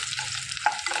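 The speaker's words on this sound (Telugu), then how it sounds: "తాలింపు పెట్టేసుకోవాలి" Cinnamon, cloves, curry leaves and fennel crackle and sizzle in hot oil for tempering, a brief burst of frying with a spoon stirring through it.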